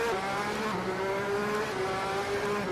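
A Red Bull X2010 race car's 1,500-horsepower engine in a racing video game, a steady high-pitched drone held at partial throttle at high speed, loud and continuous with no talk.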